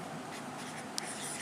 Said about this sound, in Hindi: अच्छा चलो लिख लेते हैं इसको।